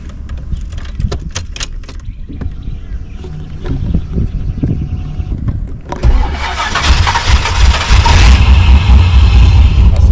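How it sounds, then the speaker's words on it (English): Keys jangle and click close by, then a Holden VL Calais engine fitted with a Harrop 2300 supercharger turns over and runs loudly with a low, rough rumble, idling very low and about to stall. "Idling really low. Why is that idling so low?"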